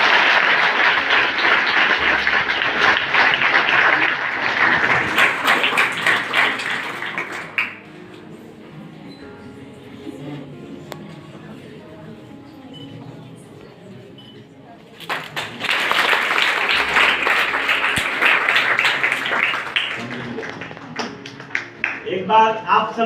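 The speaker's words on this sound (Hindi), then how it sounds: "जोरदार तालियां हो जाएंगी।" Audience at a government college prize-giving in India clapping for a first-prize winner: loud sustained applause, a quieter stretch in the middle with faint sounds, then a second burst of clapping.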